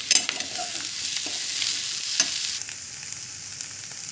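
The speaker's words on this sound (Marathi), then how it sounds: "आणि मीठ थोडं दोन मिनिट फ्राय करून घेऊया" Potatoes and salt frying in a pan while being stirred, a bright sizzle with scraping stir strokes and small clicks, fairly close, with no talking.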